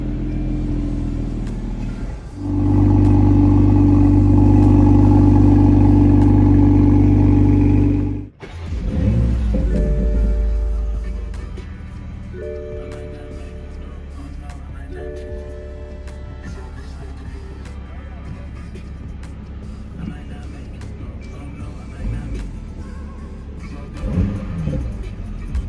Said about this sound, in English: Giving her a nice little rev. Sounds so nice.